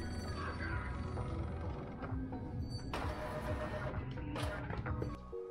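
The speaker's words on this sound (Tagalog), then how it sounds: "Nag-initialize din ako ng cleaning sa printer" An Epson L3110 inkjet printer running a cleaning cycle whirs and clicks mechanically, with ratcheting gear sounds and a couple of louder bursts of motor noise near the end.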